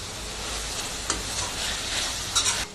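Turmeric and masala sautéing in oil over a high flame, a dense, continuous close sizzle with a couple of brief clinks of a stirring spoon.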